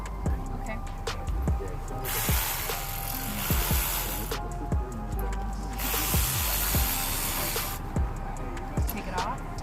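A trigger-operated power ratchet working a bolt loose while installing a Honda S2000 torque damper: bursts of close, buzzing whir with sharp clicking ticks, alternating with louder hissing air spray between runs.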